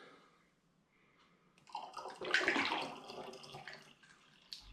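Thick sugar syrup poured into glass demijohns for a bonfire toffee apple hard cider, a quiet trickle swelling into a louder, splashy gurgling pour close by, with no talking.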